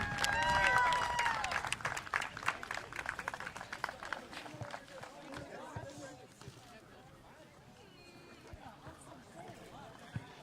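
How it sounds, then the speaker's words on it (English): Clapping from a crowd at a high school girls' softball game rises with some whistles, then thins into scattered claps and thumps as voices murmur underneath, fairly distant and fading. "Big round of applause for the Amherst County High School softball team."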